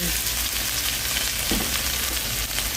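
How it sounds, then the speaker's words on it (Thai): Shrimp paste (kapi) stir-fried in a pan with red curry paste, giving a dense, steady sizzle that stays loud and even throughout, with no voices. "กะปินะคะ เรามาผัดให้หอมก่อนนะคะ"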